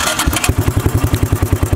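A 1984 Honda ATC 200M three-wheeler engine fires up, settling at once into a close, steady, even single-cylinder idle thump with no one speaking.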